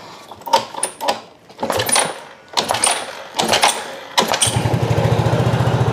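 A Yamaha Mio motor scooter is started after a faulty service. Several short cranking bursts come first, then the small engine catches and settles into a close, steady, rapid idle.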